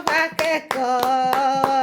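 Students clapping their hands together in about five or six quick, evenly spaced claps, each sharp and close, over a sustained voice carrying underneath.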